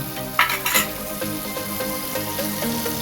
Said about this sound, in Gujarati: તેલ ગરમ થયું એટલે તેલમાં આમ ચરણી નાખી દેવાની